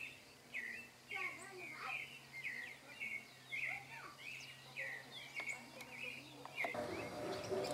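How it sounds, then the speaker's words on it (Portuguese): A small bird chirps repeatedly in short bright bursts, fairly close, over a steady low background hum and faint insect-like noise. "Esse pequeno pássaro que eu estou gravando aqui agora"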